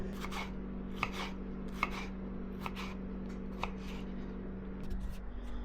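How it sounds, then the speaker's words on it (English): A knife dices a tomato on a cutting board, making a run of quick, crisp chops in small clusters, close and clear over a steady low kitchen hum. "I'm just gonna dice up this tomato, about half of it"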